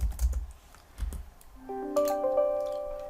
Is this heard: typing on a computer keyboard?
yes